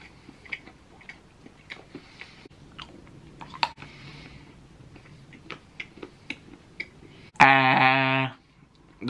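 Someone chews mild chilli chocolate up close, making soft irregular crunches and clicks, followed near the end by a brief loud tonal noise.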